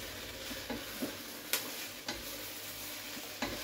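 Corned beef hash cooking in a frying pan, with a soft steady sizzle and a few sharp clicks and scrapes of stirring spaced through it, close and fairly quiet, with no talking.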